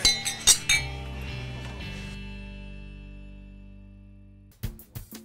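Wine glasses clink together in a toast at a wine cellar, with several sharp, bright chinks at the start and a long ringing tone that slowly fades, then a few more clinks near the end.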